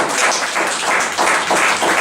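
Congregation applauding during a church sermon, a dense steady wash of clapping filling the whole moment, loud and close with no voices over it.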